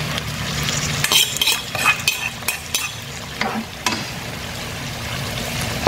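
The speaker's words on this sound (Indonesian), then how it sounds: "lalu kita tumis bersama hati ayam" Boiled green beans stir-fried with chicken liver in a pan, a steady sizzle under repeated scraping and stirring strokes, close and fairly loud, with no talking.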